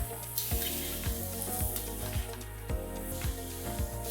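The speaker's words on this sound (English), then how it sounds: "now we'll add 5 roughly chopped tomatoes to this and cook till the tomatoes are soft" Five roughly chopped tomatoes fry in a pan of masala for matar paneer, giving a steady close sizzle broken by regular stirring taps and scrapes every half second or so, with no voices.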